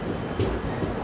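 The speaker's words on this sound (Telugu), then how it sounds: "WAP-4 లోకోమోటివ్ వెళ్తుంది" A WAP-4 electric locomotive, running as a light engine, rumbles past close alongside a train on an Indian railway line, with a brief steady roar and a faint metallic clank.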